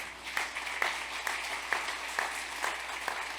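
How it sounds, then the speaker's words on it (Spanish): A church congregation applauds during a Catholic service, with a soft, steady wash of clapping and faint rhythmic accents, heard from some distance and fairly quiet. "Fuerte aplauso a nuestra madre, hermano."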